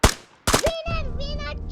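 Gunfire rings out in a battle royale video game's volcano mode: a couple of sharp, loud bursts close together, followed by a sustained tonal game sound.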